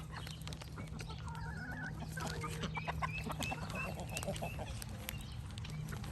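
Several chickens cluck and chatter softly at a distance over a steady low hum, with scattered short calls throughout.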